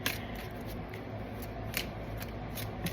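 Tarot cards are shuffled close by, a soft rapid riffling with a few sharper flicks repeating through the clip, no voices.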